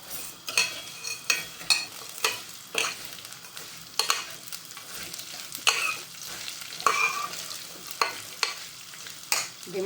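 Sev vermicelli fries in hot ghee with a steady sizzle, broken by a series of sharp scraping stirs about once a second, close and moderately loud, with no voices.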